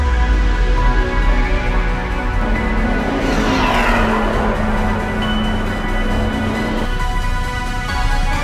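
Race cars at the Castellet circuit during a Lamera Cup race, a loud, continuous engine roar that swells as a car passes close by, with a high whine rising and falling and steady track noise throughout.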